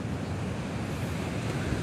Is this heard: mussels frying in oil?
no